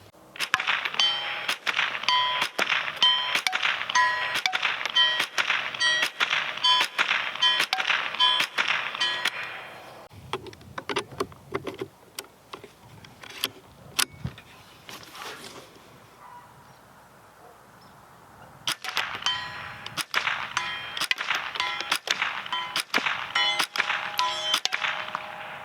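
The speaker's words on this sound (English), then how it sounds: "We'll go ahead and plink a few more times." .22 CCI standard velocity rounds strike a steel target in rapid, evenly spaced metallic clangs and pings. A long string of hits is followed by a sparse pause with a few scattered clanks, then another steady run of ringing impacts.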